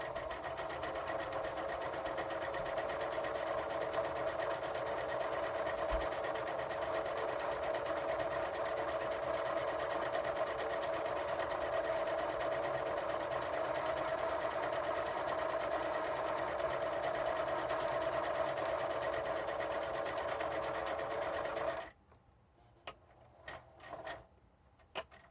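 Sewing machine stitching slippery synthetic fabric while raising a V neckline: a steady, close mechanical whir with fast rhythmic ticking running unbroken for over twenty seconds, then stopping abruptly, followed by a few faint clicks.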